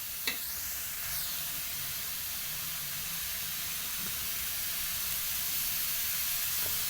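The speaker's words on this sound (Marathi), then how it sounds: "आपण आता याच्यात घेऊ तेल टाकून." Oil sizzles steadily in a pan with browned onions for anda bhurji, a soft, even hiss with a couple of faint clicks from stirring.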